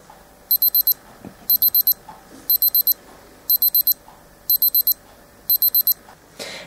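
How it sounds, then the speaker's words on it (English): A 1999 Q&Q Superior MC10J301 wristwatch sounds its basic beeping alarm: six evenly spaced bursts of four quick, high-pitched beeps, close and clear against quiet background. "Then basic beeps alarms 4 and 5."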